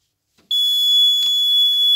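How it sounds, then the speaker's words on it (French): AVISS RP2 fire alarm repeater sounding its fire alarm: a piercing, steady high-pitched electronic tone that switches on abruptly after a brief silence and holds loud and close, with no talk. "Donc là il est en alarme-feu."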